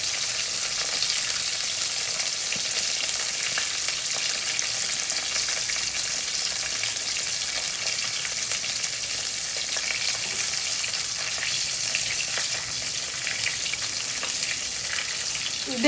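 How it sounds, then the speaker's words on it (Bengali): Eggplant pieces fry steadily in hot oil for a hilsa dish, a dense continuous sizzle with occasional stirring scrapes, close and alone without talk. "বেগুনগুলো আগে একটুখানি ভাজা ভাজা মতন হয়ে যাবে, একটু এপিট ওপিট করে ভালো করে ভাজতে হবে।"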